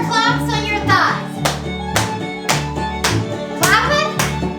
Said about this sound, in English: 4 claps on your thighs.